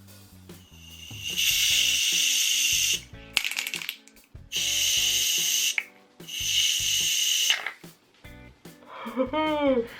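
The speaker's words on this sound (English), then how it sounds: "we are going to kind of shake it up" A bottle of Kaja Dream Puff Radiant Mousse primer is shaken in three bursts of rapid, close rattling, separated by short pauses, with faint handling noises between them.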